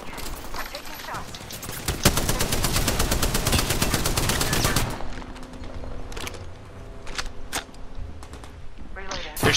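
Gunfire in the battle royale shooter Apex Legends, a long, loud, rapid automatic burst followed by sparser distant single shots and game sounds, with a voice talking during the fight.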